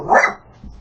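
Dogs barking at people walking down a home driveway: one sharp, fairly close bark followed by a softer short yip, with no talk over it.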